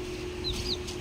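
A pet chicken clucks faintly at home, with a couple of brief, soft high calls over a steady low background hum.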